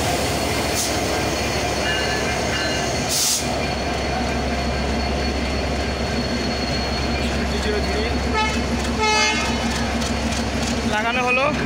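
A 2300 series diesel locomotive at Parbatipur railway junction rumbles steadily with wheel squeal and a couple of short horn blasts, loud and close, with people talking nearby.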